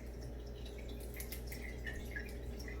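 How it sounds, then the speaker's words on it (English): Salad dressing poured into a jar for a raw veggie jar salad, faint wet trickling and soft dripping splashes over a low background hum, no voices. "Then I'm going to pour 2 ounces of dressing into my jar."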